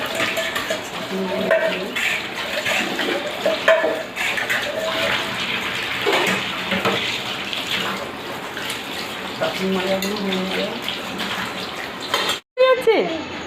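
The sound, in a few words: washing dishes under running water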